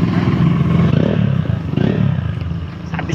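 Kawasaki KLX motorcycle engine fitted with an FFRacing aftermarket exhaust, a loud, close, continuous rumbling drone that holds steady throughout with slight rises in revs.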